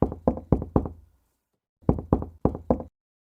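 Someone knocks on a door in two sharp, loud sets of four raps each, with a short pause between the sets, close by and with no other sound.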